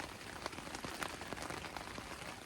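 Rain that has been falling for about twelve hours patters on a surface at a backcountry camp on the Rockwall trail, soft and faint, with scattered drops ticking over a steady hiss.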